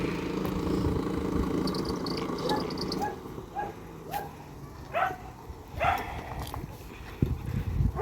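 A dog gives several short barks and yips spaced a second or so apart, fairly close, over a low background rumble that fades after a few seconds.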